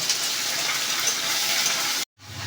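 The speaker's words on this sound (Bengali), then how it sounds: "এবার পেঁয়াজটাকে ভালো করে ভেজে নেব।" Onions fry in hot oil with a steady, close sizzling hiss, then a brief silent break before the sizzle resumes.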